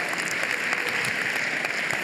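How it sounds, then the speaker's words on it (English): Audience applause at an evening talk, a steady dense wash of clapping holding evenly through the whole stretch with no voices over it. "So why don't you give him a round of applause."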